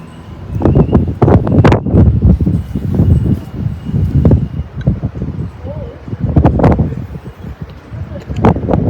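Outdoors, gusty wind buffets the microphone in loud, rumbling bursts that swell and fade unevenly across the whole stretch.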